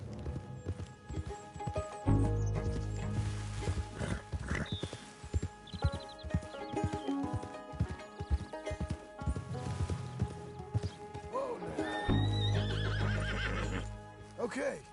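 A horse in Red Dead Redemption 2 whinnies loudly twice, several seconds apart, amid clip-clop hooves and music, with voices speaking in between.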